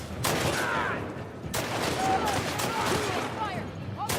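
Gunfire in The Last of Us Part II comes as bursts of several shots, loud and close, separated by short gaps, with voices shouting over the shooting.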